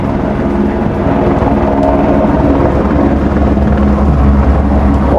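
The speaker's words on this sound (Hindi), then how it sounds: "और देखिए मेरे पीछे हेलीकॉप्टर्स," Helicopters at the Kedarnath helipad in the mountains give off a loud, constant rotor and engine roar. It sounds close and steady throughout, with no talk over it.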